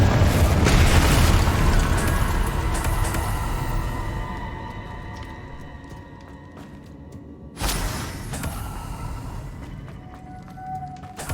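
A Confringo explosion spell goes off in Hogwarts Legacy with a loud booming blast that rumbles and fades over several seconds, then a second burst hits and rings out.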